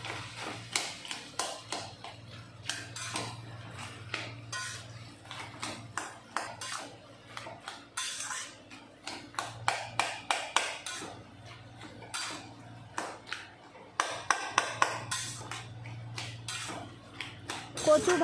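Taro leaves cooking with prawns in a pot are stirred with a metal utensil, giving repeated close scraping clinks and taps against the pot in an uneven rhythm over a low steady hum.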